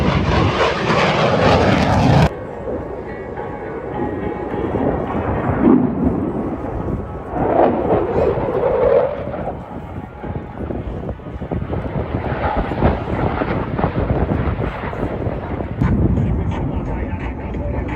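An F-35A fighter jet flying at the Texas Airshow in San Antonio gives off a loud, rumbling, roaring engine that swells and fades as it passes, with an announcer talking over it on the public address.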